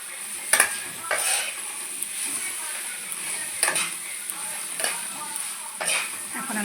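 Spices such as turmeric, cumin and chili powder stirred into a frying mixture in a pan, with a steady sizzle under repeated metal scrapes and clinks of the spoon against the pan.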